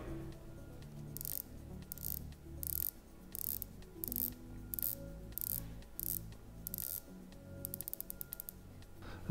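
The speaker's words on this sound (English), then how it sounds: "We have to turn the bezel so everyone can hear." A Rolex watch bezel is turned by hand, giving short bursts of crisp ratcheting clicks in an irregular rhythm, close and fairly quiet with no talk.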